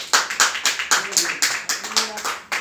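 Rhythmic congregational clapping for the Lord during a Spanish-language church service, sharp regular claps at a steady pulse of roughly three per second, close and loud, with faint voices mixed in.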